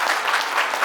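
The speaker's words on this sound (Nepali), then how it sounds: "जोरदार फेरि एकचोटि ताली बजाउनुहोस्" Brief burst of clapping from wedding guests at a Nepali Christian ceremony, dense and fairly close, cut off after under a second.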